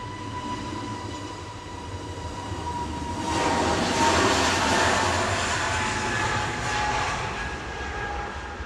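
An EasyJet jet airliner at Manchester Airport rumbles steadily, swelling louder midway as it draws nearer with a brighter engine roar, then easing slightly, no talk.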